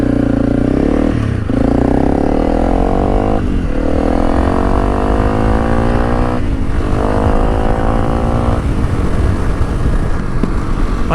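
Honda CRF300L Rally single-cylinder motorcycle revving hard while riding on a mountain trail, loud and continuous, the pitch climbing through each gear and dropping briefly at every shift.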